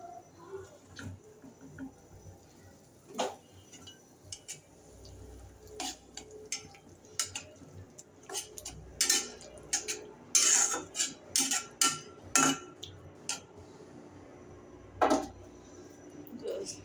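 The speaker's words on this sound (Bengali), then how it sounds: "পানি একটু দিলাম, মশলাটা ভালো করে কষিয়ে নিব।" Masala with a splash of water being stirred and sautéed in a pan, irregular clinks and scrapes of a spoon against metal over a low background, growing busier midway.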